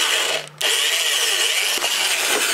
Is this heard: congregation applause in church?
no